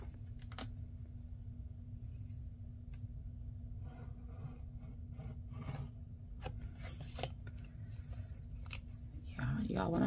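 Paper being trimmed with scissors while a creative journal is put together: soft, close snipping and rasping cuts that repeat irregularly at low volume.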